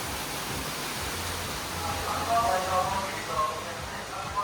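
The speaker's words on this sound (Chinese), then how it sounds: "里面甚至还有一个瀑布。" An indoor waterfall splashes inside a souvenir shop in Chengdu's alleys, a steady broadband rush of falling water that fills the space and swells slightly midway through.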